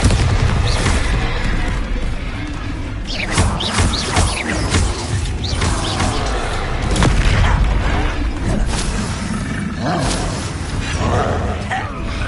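Loud Bombarda blasting spells in Hogwarts Legacy combat: repeated booming bursts over a dense, continuous din of mechanical clatter and creaks, with voices heard in the fray.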